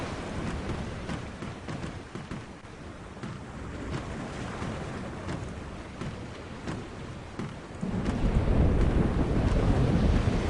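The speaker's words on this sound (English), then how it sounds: "A storm approaches, April, and it is no ordinary storm" Storm wind in The Longest Journey adventure game: a steady roaring gust, close and loud, that swells heavier in the last few seconds.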